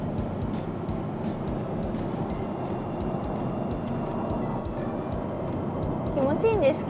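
A Porsche with its sunroof open on the highway fills the cabin with steady, loud roaring wind and road noise, continuous throughout, rising slightly at the end.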